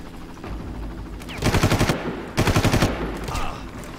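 Automatic gunfire from Far Cry rattles in two sustained machine-gun bursts, close and loud, separated by a short pause, with quieter sporadic shots around them.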